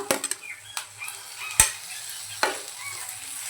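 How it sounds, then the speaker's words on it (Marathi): Onion and sliced tomato sautéing in a pan for paneer matar masala, with a quiet sizzle beneath a few sharp spatula scrapes and clinks against the pan. "आता परतवून घेऊया।"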